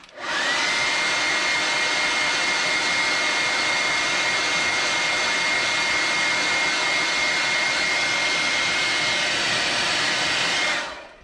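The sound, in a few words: blow dryer drying airbrushed paint on crankbait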